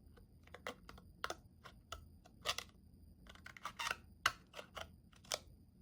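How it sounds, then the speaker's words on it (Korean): Scissors cut through the center of a lid in a quiet room, giving a close series of crisp, irregularly spaced snips and clicks. "이 중앙 부분을 가위로 잘라요"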